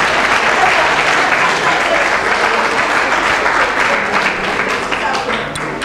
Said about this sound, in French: encore un applaudissement